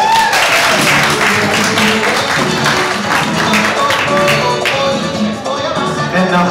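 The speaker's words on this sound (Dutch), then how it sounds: "Dames en heren, geef nog een applaus!" Audience applause at a poetry slam evening in a Rotterdam reading room, steady dense clapping filling the room for several seconds without talk.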